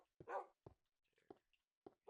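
Dogs in a Minecraft-style video game give several short, clipped barks and yips in a broken sequence, fairly faint and with no talking.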